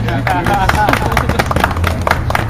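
An audience applauds at a public talk on Canada's Omnibus Crime Bill C-10, a dense steady clatter of many hands running throughout with voices and low room rumble mixed underneath.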